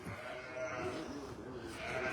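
Sheep bleat on a farm as lambs are moved out to the fields, a steady close bleating mixed with people talking nearby.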